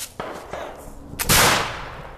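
A single loud flintlock muzzleloader rifle shot fired at a spinner target about 10 yards away, a sharp blast followed by a lingering rumble, preceded by a few faint clicks and thumps.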